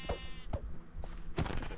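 Sheep bleat in a blocky video game, a few short nasal bleats one after another, close and fairly soft, with no talk over them.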